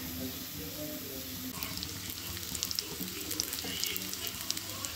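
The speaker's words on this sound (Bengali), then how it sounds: "দেখুন আমি এইভাবে মাছগুলোকে কিছুক্ষণ ফ্রাই করে নিয়েছি" Fish frying in hot oil in a home kitchen, giving a steady dense sizzle that brightens and crackles harder partway through, heard close and without talk.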